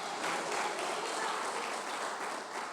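Church congregation applauding at a Portuguese-language evangelical service, steady dense clapping filling the whole stretch at moderate level with no talk over it.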